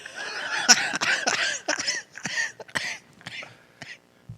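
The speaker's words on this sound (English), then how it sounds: "You know why you're coughing like that is because you smoke too much." A run of repeated coughs and throat-clearing bursts comes in close, irregular clusters, loud and harsh with short gaps between them.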